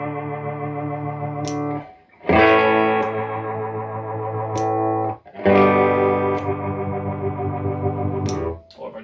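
Electric guitar played through a pedalboard with a rotary speaker effect: sustained, distorted chords in two long strums, swirling and wide, with a short gap between them and no talking.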